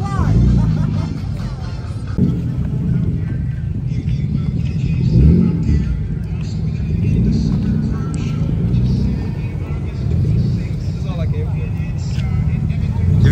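A Toyota Supra at a cars and coffee meet idles and revs with a rumbling engine note that swells a few times, under lively crowd chatter and voices urging the driver on.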